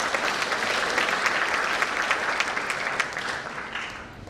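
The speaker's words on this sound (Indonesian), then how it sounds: "Tepuk tangan untuk beliau." An audience at a university ceremony applauds a guest speaker with a dense, sustained round of clapping that holds steady and eases off slightly toward the end.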